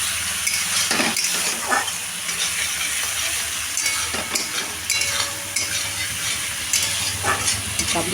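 Spice paste of cumin and chili powder hits a pan of frying chickpea masala with a steady, close sizzle, broken by occasional stirring scrapes and clinks.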